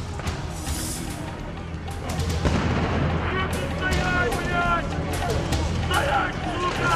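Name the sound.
flash grenades and water cannon used on protesters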